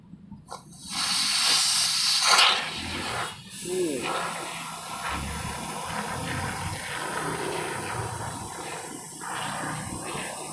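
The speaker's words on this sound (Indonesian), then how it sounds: "cairan dari foam spray ini langsung mengembang ya" A can of PU polyurethane foam sealant sprays expanding foam into a hole in a wall, giving a loud, steady hiss that starts abruptly and runs for about two seconds, then softer sputtering and handling noises while a person talks throughout.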